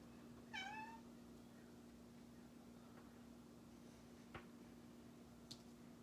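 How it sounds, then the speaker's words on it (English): A pet cat gives one clear, rising-falling meow near the start, then stays quiet apart from a few faint clicks over a steady low hum in an indoor room. "You can hear my cat Steve."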